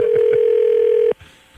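On an outgoing call during a radio show, a telephone gives a single steady ringback tone for about a second and then cuts off abruptly.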